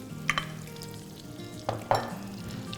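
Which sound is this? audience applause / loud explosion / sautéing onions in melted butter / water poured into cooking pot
sautéing onions in melted butter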